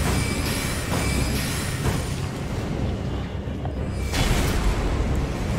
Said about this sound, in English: He's throwing fire.